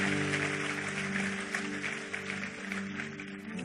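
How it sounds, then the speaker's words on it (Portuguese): A Portuguese-speaking church congregation applauding after a sermon, steady close clapping over a low hum that continues for a few seconds. "Vamos aplaudir a Ele."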